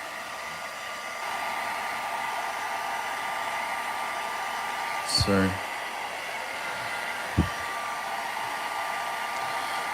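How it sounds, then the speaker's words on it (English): A real working toy doll blow dryer runs on medium with a steady whirring hum throughout, close by, while a voice speaks briefly and a couple of small handling knocks break in. "this is a real working blow dryer"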